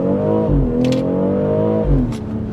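A 2023 BMW X3 M40i set to sport mode launches hard from a stop, its engine revving loudly and rising in pitch through two quick upshifts, with no talk over it.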